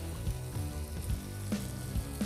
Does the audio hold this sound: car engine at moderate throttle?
no